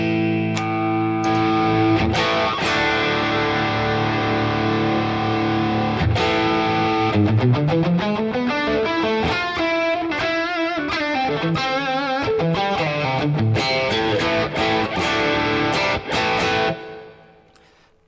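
An electric guitar plays through an overdrive pedal into a Boss Katana amp, heavily driven, with sustained distorted chords giving way to fast riffing and bends, loud and close, then a final ringing chord that cuts off.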